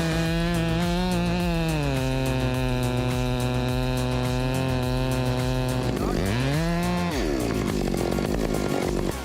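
A Husqvarna 562 XP chainsaw cutting through large logs, its engine holding a loud, steady high whine before dipping and rising again as the load changes.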